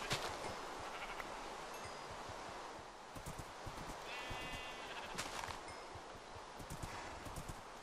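Sheep in Minecraft give a short bleat among rustling and soft stepping sounds. The ambience is faint and busy, with scattered clicks throughout.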